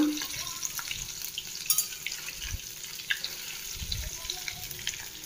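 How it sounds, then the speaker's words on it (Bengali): Carp roe fritters frying in a wok make a moderate steady bubbling sizzle with occasional soft clatters, close by and mostly free of talk. "এই যে কড়াইতে ভাজছে মাছের ডিমের বড়া, সবে মাত্র দিয়েছে।"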